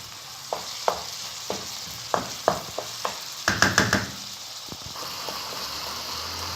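Minced meat fried with onions sizzles in a hot pan, with several sharp clinks of a spatula stirring, including a quick burst of scraping near the middle.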